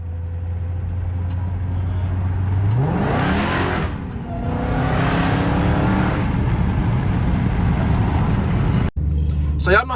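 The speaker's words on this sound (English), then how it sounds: "But stay tuned for the exhaust." A Dodge Charger Redeye with its mid muffler deleted idles with a low rumble, then is revved twice in loud, rising sweeps before dropping back. A brief cut leads into renewed idle.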